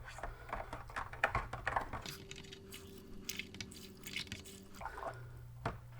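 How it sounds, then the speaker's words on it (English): 3D-printed mask parts stirred in a container of soapy water: faint, gentle sloshing and dripping, quiet and close, with no voices. "Give it a little mix, just in case the soap has separated."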